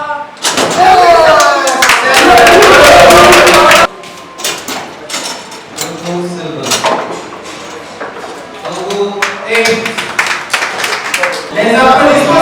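An audience applauds at an African table football championship hosted in Benin: a dense, loud burst of clapping fills the opening seconds, then cuts away to someone talking over softer background noise.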